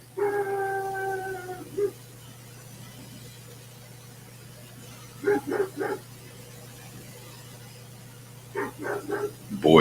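Dogs bark in short bursts, with a drawn-out howl at the start and clusters of barks later, somewhat distant over a low steady hum.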